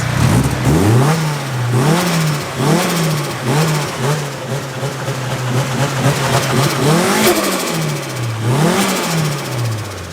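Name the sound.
Nissan S15 Silvia engine revving after a cold start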